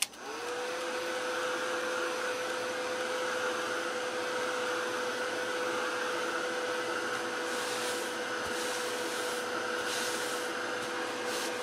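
A hair dryer runs steadily for about twelve seconds, drying a handmade paper junk journal, with a constant loud whir and a sustained motor hum close by and no talk.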